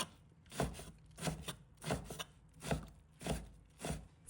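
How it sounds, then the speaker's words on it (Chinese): A knife chopping pickled mustard greens into small pieces on a board, six steady, evenly spaced thudding cuts, each with a wet crunch, close and alone. "将酸菜切成小块，块头要小一些"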